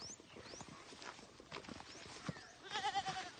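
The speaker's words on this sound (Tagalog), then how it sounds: "Kambing." A goat on a farm lets out a brief, wavering bleat near the end. Soft rustling and scattered knocks fill the moments before it, and the whole scene is fairly faint.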